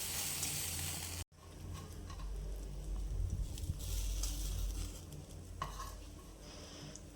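Soaked, squeezed lapshi porridge grain being stirred and sautéed in a kadhai. Soft sizzling and scraping come close-up, after a brief abrupt pause near the start, with occasional spoon clinks against the pan.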